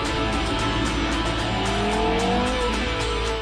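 A Porsche Carrera GT supercar with carbon fibre body and magnesium transmission tunnel roars along at speed, a loud continuous engine note rising in pitch as it accelerates, close and alone.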